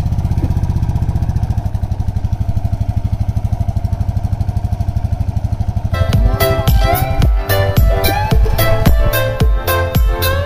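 A Bullet motorcycle towing a bicycle rides along with a steady, loud engine rumble, turning rougher and more broadband partway through as wind and road noise build.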